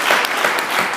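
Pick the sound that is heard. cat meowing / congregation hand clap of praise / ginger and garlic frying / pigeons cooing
congregation hand clap of praise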